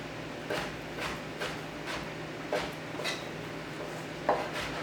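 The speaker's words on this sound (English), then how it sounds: "We're going to slice this into strips." A knife slicing beet-cured salmon into strips on a cutting board: a series of soft, evenly spaced cuts with light board taps, close and moderately quiet, with no talking.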